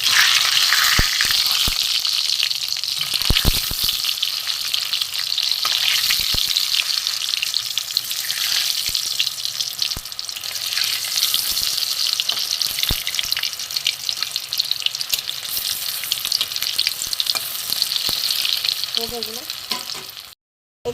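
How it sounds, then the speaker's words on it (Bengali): Egg fritters (egg bora) fry in plenty of oil, a dense, continuous crackling sizzle held close and loud for the whole stretch, with a few faint knocks and no talking. "এইভাবে ভেজে নেব, উল্টে দেবো।"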